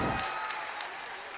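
An audience at a school annual-function drama claps for a comic village politician character, a brief dense burst of applause that fades slightly, with a voice faintly mixed in.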